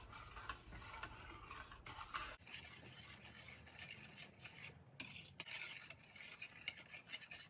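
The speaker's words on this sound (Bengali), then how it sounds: "এবার আমি এই হুইস্কের সাহায্যে পুরোটা ভালো করে মিশিয়ে নেব।" Homemade hand sanitizer being stirred with a whisk, a steady scraping swish that goes on continuously with small clinks, close and soft.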